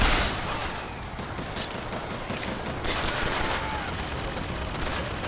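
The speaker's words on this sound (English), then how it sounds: "there's a whole lot of shooting" A dense, sustained fusillade of gunfire in BioShock Infinite, steady and fairly loud throughout, with scattered sharper shots standing out in a noisy combat mix.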